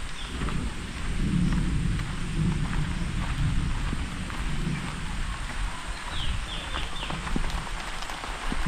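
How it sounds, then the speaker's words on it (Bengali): Steady, dense rain hiss with low rumbling underneath and a few faint high chirps, continuous and fairly close. "ভালো মতো বৃষ্টি নেমে গেছে এখন।"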